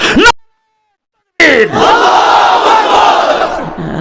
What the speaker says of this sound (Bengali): নারায় তাকবীরের স্লোগান